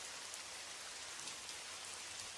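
Steady rain falls in a village at night, a dense even hiss of drops on surfaces that holds unchanged throughout, with no voices or other sounds.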